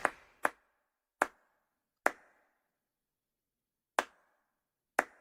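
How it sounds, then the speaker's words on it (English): Sharp isolated claps, six distinct hits spaced unevenly over a few seconds, close and dry with silence between, for a guest on a talk show. "give a warm round of applause for John Colton"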